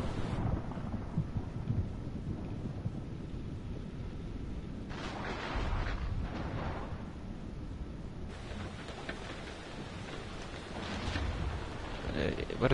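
Thunderstorm in the video game Man of Medan: steady roaring rain and wind with deep rolling thunder swelling midway, a continuous dense wash of storm noise.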